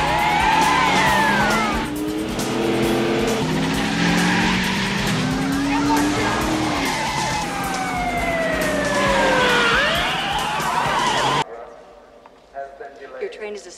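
A car speeds off in an action movie scene with emergency sirens wailing, swooping up and down in pitch over roaring engine and squealing tires, loud and close, before cutting abruptly to quiet.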